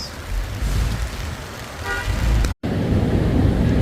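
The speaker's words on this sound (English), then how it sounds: "with a lot of rain and a lot of cars." Heavy car traffic on rainy Sixth Avenue at West 34th Street in New York City, a continuous wash of engines and wet tire hiss with a short car horn toot rising above it, and no talk.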